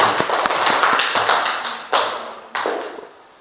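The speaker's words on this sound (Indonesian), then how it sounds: "Oke, tepuk tangan dulu." Classroom applause during a lesson, a short burst of close, uneven hand claps from a small group, with a few louder individual claps standing out near the end as it tapers off.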